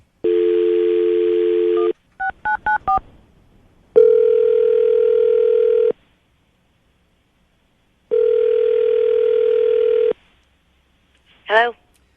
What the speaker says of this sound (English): I'm going to dial the phone number, see if we can get her on the phone